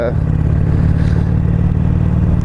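Harley-Davidson Iron 883 with a Stage-1 ECM flash, its engine running steadily in a low, loud, continuous throb close by while a rider rides on a tar-and-gravel road.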